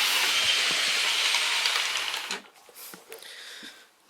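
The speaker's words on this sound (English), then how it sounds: "I'll bring the GNER to a slow stop in a second" An OO gauge model GNER train slows to a stop: a loud, steady hissing rumble from the running model fades as it brakes, leaving small clicks and rattles before going quiet.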